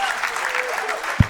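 An audience claps for the rapper, a short burst of steady applause under a voice, ending with one sharp thump.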